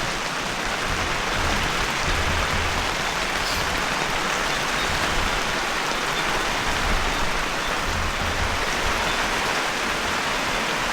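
Heavy rain with wind beats steadily on a camping tent during a storm, a dense, continuous hiss of drops on the fabric that stays loud throughout with no talking.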